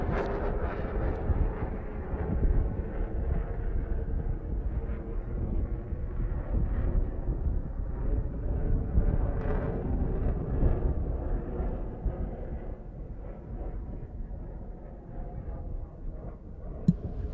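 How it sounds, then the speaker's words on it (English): MiG-29K fighter jet flying at a navy air show over Visakhapatnam beach, a continuous loud roaring rumble with wind buffeting, sustained and distant-to-near without pause. "the MiG-29K is equally lethal in air-to-air combat and precision strike missions"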